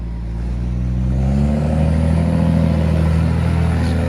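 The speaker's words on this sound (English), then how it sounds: "going to go around the block now, get the engine and the transmission warm" A Claas Xerion tractor engine pulls away to warm up, a loud, steady diesel drone close by with rising tones as it gathers speed, no talking.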